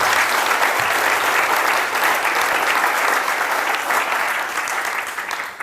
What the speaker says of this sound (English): one last round of applause for Dries